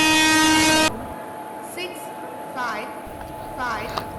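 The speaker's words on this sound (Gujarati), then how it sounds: "અહીં આપણી ટ્રેન ચાલુ થઈ ગઈ" A train starts moving in the Indian Train Simulator game on a Surat to Bharuch route. A loud steady horn blast opens, then quieter rolling rail noise continues as someone talks over it.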